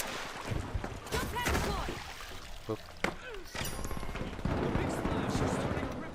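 Video game gunfire crackles in rapid bursts and single sharp shots against a busy, dense game soundscape, with a voice talking over much of it.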